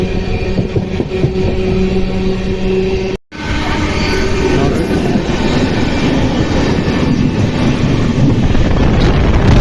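Jan Shatabdi Express number 12089 cruising at about 110 km/h out of Yeshwantpur toward Shivamogga, a loud steady rumble of wheels on rail with wind rush heard from on board, briefly cut out once.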